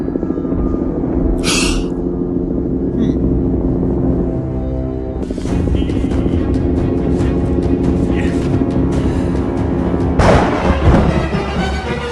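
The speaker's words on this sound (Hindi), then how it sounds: "अचानक एक जोरदार धक्के के साथ वह पहाड़ियों के बीच जा गिरता है।" A cartoon helicopter crashes into snowy hills, its rotor rumbling steadily under sharp impact bursts and clatter that land repeatedly across the scene.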